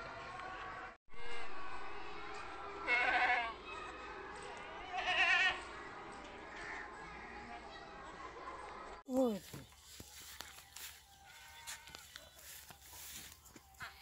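Goats bleating at a livestock market in Sahiwal, with a couple of short, clear bleats among busy crowd chatter and background voices, followed by a noisier stretch.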